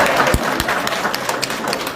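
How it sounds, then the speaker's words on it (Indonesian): A church congregation claps during a Sunday sermon, a brief burst of close, uneven hand claps with a few heavier thumps, filling the moment loudly. "tepuk tangan buat dia"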